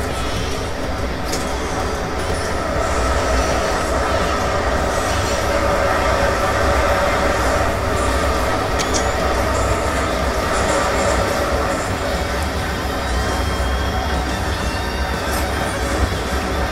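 A metro train ride heard from inside the passenger car in the Garry's Mod Metrostroi game: a loud, continuous rumble of wheels and motor with rattling and faint clicks, steady from start to finish.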